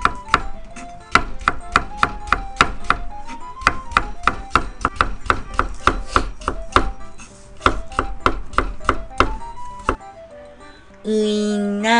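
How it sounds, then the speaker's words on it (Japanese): A kitchen knife thinly slices a carrot for a bento side dish: rapid, steady, crisp chops on a cutting board, close and loud, stopping just before a brief different sound at the end. "人参は薄切りです。"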